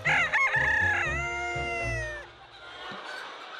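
A white silkie chicken on a farm lets out a loud, drawn-out call up close, and it fades into a softer mixed hum of the flock.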